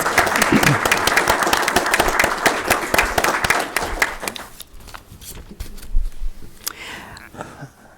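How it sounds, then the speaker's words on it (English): An audience at a school district board meeting applauds students and employees of the month, with crisp dense clapping that thins into scattered claps and trails off. "Let's give them a great big Panther applause"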